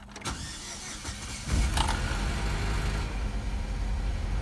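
A Saab 9-3 2.0T Sportcombi fitted with new spark plugs cranks briefly, then catches and settles into a steady idle, heard up close and fairly quiet with no talking.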